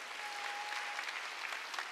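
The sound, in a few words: church congregation applauding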